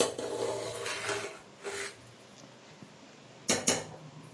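A spoon works through dal rice in a pressure cooker pot, giving soft rasping scrapes in slow strokes, then two sharp metallic clinks near the end, close by with no talk.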